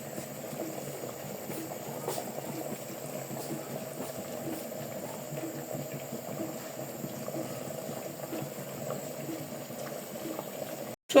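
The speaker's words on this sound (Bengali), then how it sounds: "দেখুন এখানে আমার মাংসটা জাল উঠে গেছে।" Beef simmering in a covered cooking pot gives a soft, continuous bubbling and gurgling, close and fairly quiet, steady for about eleven seconds with no talking.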